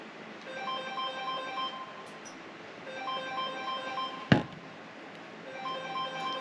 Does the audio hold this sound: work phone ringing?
yes